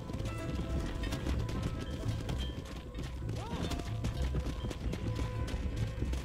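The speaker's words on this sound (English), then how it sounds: "Crazy horses running around with saddles on" Saddled horses gallop around a farm in the Red Dead video game, with quick steady clip-clop hoofbeats and a brief whinny under a voice.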